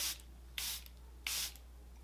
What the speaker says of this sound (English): now I'm going to set my face with a setting spray